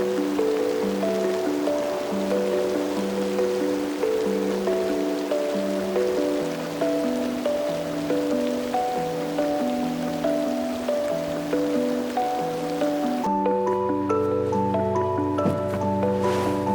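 Steady rain hisses in the background beneath sustained, slowly shifting musical tones, which thin out near the end.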